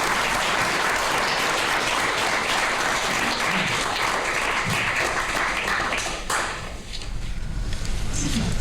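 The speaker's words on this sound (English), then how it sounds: "Let's give him another round of applause." Sustained applause from the audience at a city council meeting in Reidsville, dense clapping filling the room throughout, dipping briefly near the end before picking up again.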